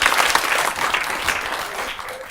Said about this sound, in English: Round of applause for the kids getting there.